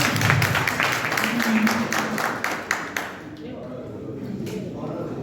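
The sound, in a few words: audience applause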